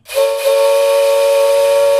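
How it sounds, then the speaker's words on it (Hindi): A single loud train whistle at a railway station sounds alone after a quick rise, then holds one steady, piercing tone with a faint hiss beneath it. "तभी उसने ट्रेन की सीटी की आवाज़ सुनी।"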